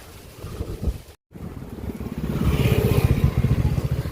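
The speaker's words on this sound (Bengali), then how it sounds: "নৌকোর মধ্যে ইঞ্জিন লাগানো থাকে, ভটভটি যাকে বলে" Engine-powered motorboat (bhotbhoti) crossing the Ganga river, its motor chugging in a rapid rhythm that swells louder after a brief dropout, with wind buffeting the microphone and water noise around it.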